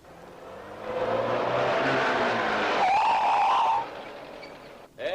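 A car drives past close by in a 1965 Georgian comedy film, its engine and tyre rush swelling loudly for about three seconds before dropping away abruptly.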